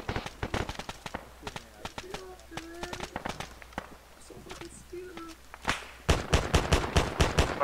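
Gunfire in a military video game, bursts of rapid shots and single cracks spread across the scene, growing louder and more rhythmic near the end, with voices talking over the action.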